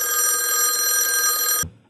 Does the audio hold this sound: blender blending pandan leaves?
no